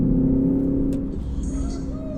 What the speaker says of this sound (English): It's 4-cylinder 2-liter BMW engine. Has plenty of turbocharged torque.